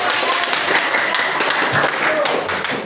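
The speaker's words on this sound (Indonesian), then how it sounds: "Kita berikan tepuk tangan." Students in a classroom give a brief round of applause, a dense burst of clapping that fills the room for a few seconds with voices mixed in.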